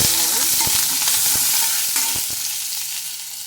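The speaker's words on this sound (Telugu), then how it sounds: "ఎండుమిరపకాయ ముక్కలు వేసి ఇలా పోపు వేయించుకోవాలి" Close, loud sizzling of oil with dried red chilli pieces frying as a tempering, sharp clicks of a spoon stirring in the pan, fading slightly toward the end.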